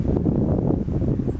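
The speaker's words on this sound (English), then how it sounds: "it's pretty cloudy and windy right now" Wind blows across an open homestead on a cloudy day, a continuous low buffeting roar against the microphone, steady and close with no voices.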